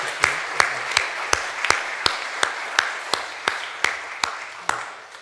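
Sharp hand claps in a steady, even rhythm, roughly fourteen in a row, fairly close, with a quiet room behind them, during a Sunday church service.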